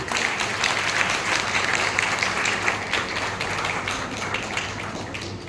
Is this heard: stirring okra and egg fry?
no